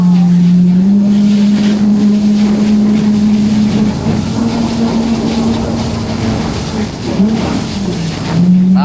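A jet ski at Subic drones steadily at close range, its engine holding a constant hum with a brief dip and rev near the end, over splashing water and wind.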